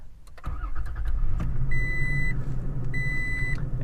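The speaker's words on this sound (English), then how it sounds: "put your foot on the brake and push in on the button to start it up" A 2022 Toyota Tacoma TRD Off-Road started by push button: a short cranking burst catches into a steady engine idle close by, with two electronic chime tones sounding over the running engine.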